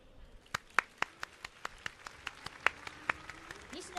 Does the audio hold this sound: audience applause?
yes